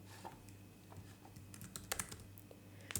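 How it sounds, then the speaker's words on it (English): Quiet typing on a computer keyboard, a sparse run of soft key clicks that grows busier toward the end, with a low steady hum underneath. "Let me type this for you."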